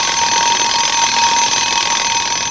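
A cartoon alarm clock rings in a loud, continuous, shrill bell tone that holds steady for the whole stretch with no voices.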